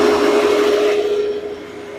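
A Kioti compact tractor engine holds at high idle on full throttle, a loud steady drone with a sharp constant whine that eases somewhat toward the end, close by with no talking.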